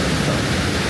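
Multnomah Falls in Oregon roaring on a foggy, drizzly day, a dense, steady wash of broadband water noise filling the whole brief moment, close and loud with no voices.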